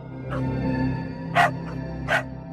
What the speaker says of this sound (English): Jack would recognise that bark anywhere